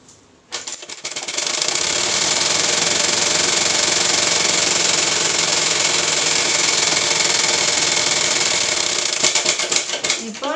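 Sewing machine stitching the lining of a silk sleeve, starting with a short thump and then running in one loud, steady, fast mechanical whir for about nine seconds before stopping with a few clicks.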